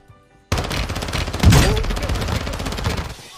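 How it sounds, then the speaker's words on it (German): Rapid video game gunfire fires in a dense, continuous burst, with a louder flurry near the middle. "Irgendwas schießt auf mich noch."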